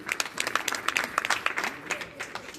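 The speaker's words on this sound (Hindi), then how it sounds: "एक बार तालियों से पुनः जुड़ने की कोशिश करें" An audience claps in a brief, faint burst of scattered applause that sounds distant and soft.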